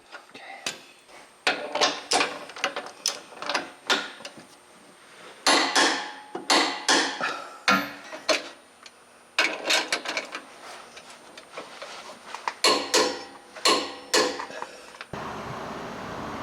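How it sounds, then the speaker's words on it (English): Control arm bolts on a Jeep JL Wrangler with a 2.5-inch lift kit are tightened with a 21mm socket and wrench, giving a long run of sharp ratcheting clicks in quick bursts with brief pauses between. "using a 21mm socket and wrench, all the control arm bolts can now be tightened to torque spec as well"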